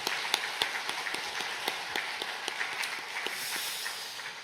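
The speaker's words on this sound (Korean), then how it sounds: "우리 선생님들, 수고하시는 선생님들을 위해서 우리 박수로 또 격려하도록 하겠습니다." Churchgoers at a Sunday afternoon service clap to encourage their teachers at a joint children's and youth worship, scattered sharp handclaps over a soft hall ambience, moderately near.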